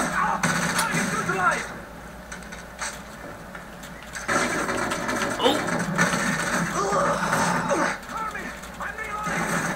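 UMP submachine gun firing in Modern Warfare 3 on the Wii, rapid bursts of gunfire running through most of the stretch under frequent excited talk.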